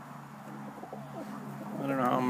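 Egyptian swift pigeons coo in a low, rolling rhythm, several birds overlapping close by, with soft chirps, a steady background hum, and a fuller, louder burst of cooing near the end.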